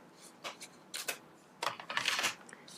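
Paper is cut with scissors during a watercolor swatching session, giving a few quiet close snips and crisp rustles in short bursts with pauses between.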